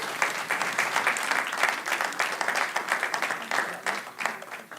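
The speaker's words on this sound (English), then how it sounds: "you guys have clapped more than any other crowd in this room has ever clapped" Audience applause in a city council chamber, a dense burst of many hands clapping at close range that carries on steadily for several seconds.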